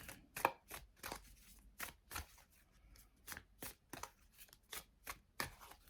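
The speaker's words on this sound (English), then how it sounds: "So I am going to give these a shuffle" Quiet, crisp riffling and slapping of a deck of cards being shuffled, repeated in quick bursts, close by with no talking.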